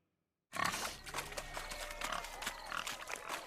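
Pigs squeal and grunt amid hooves and bustle during a swineherd race in The Witcher 3: Hearts of Stone, a dense, busy clamor that starts abruptly and continues throughout.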